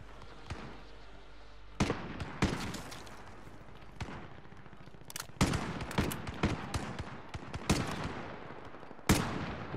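Video game gunfire rings out in sharp, scattered shots and short bursts, moderately loud and irregularly spaced, with a faint constant background rumble between them.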